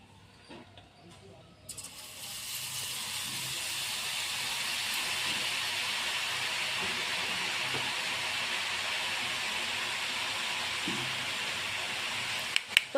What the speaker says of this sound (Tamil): இப்போ மாவு ஊற்றி பொரிச்சு எடுத்துக்கலாம்.